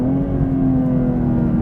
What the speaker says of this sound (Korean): 엔진음도 훌륭하고 배기음도 훌륭하고